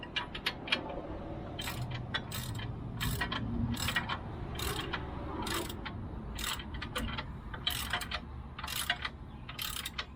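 Ratchet socket wrench clicking while working on a truck's front axle during a front-end knuckle and axle rebuild, with irregular bursts of sharp ratcheting clicks, close and fairly clear over a low background rumble.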